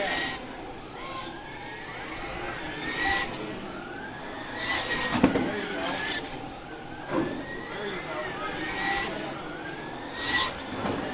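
Traxxas Slash RC cars race on a carpet oval, their electric motors whining in rising and falling sweeps as they pass repeatedly, with periodic bumps and clatter at moderate distance.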